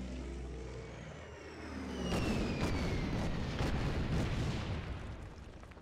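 Bombing explosions from an air attack in the wargame Order of Battle, set in the defense of the Malay Peninsula along the Burma Road. A low rumble swells into loud, sustained blasts with whistling descending tones overhead.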